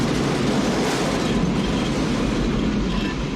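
A train roars past in the Back to the Future Part III scene where it smashes the DeLorean, a steady, loud rumble and rattle of wheels and cars filling the whole stretch without a break.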